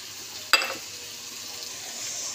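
Mutton masala with chilli powder being stir-fried in a pan: a steady oily sizzle, broken near the start by one sharp scrape of the spatula, then a constant hiss with no talking.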